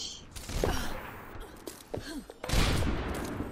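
Gunfire in Overwatch: a spread of bursts, with a sharp loud crack near the end, mixed with game effects and brief vocal sounds.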